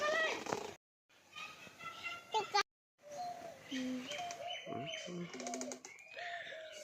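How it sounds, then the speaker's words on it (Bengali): A dove coos in short low calls on a village holiday morning, with other bird chirps and nearby people talking, fairly quiet overall. "ঘুঘু ডাকে, ঘুঘু।"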